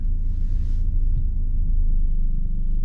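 A manual-transmission car's engine rumbles low and steady through a quick start on flat ground, a continuous near drone with no talking.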